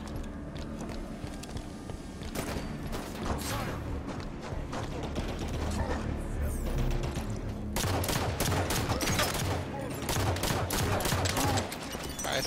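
Rapid turret gunfire in the Halo 5 game, dense bursts of automatic shots rattling through most of the stretch, loud and close, broken by short pauses, with other game sounds around it.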